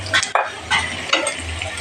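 Fried potatoes tossed with salt, turmeric, chili, sugar, cumin and black pepper in a pan, a few quick scraping stirs over a low hiss, close and brief, with no talking.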